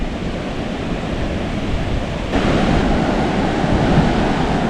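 Surf breaking on Patong beach in Thailand on a rainy day, a steady broadband wash of waves that swells louder partway through, with no voices.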